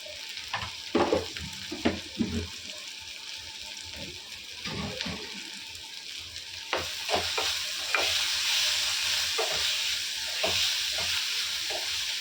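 Asafoetida and turmeric hitting hot oil give a steady frying sizzle, with stirring clicks and scrapes early on and the hiss growing louder and denser toward the end.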